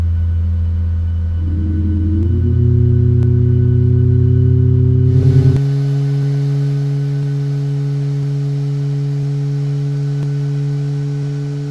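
Jet engine start in Microsoft Flight Simulator as fuel is added after motoring: a steady low whine rises in pitch, then settles into a louder, fuller continuous roar that holds steady.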